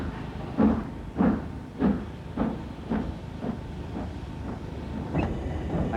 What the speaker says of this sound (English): Rolling us forward now, Arch. He's now opening the regulator.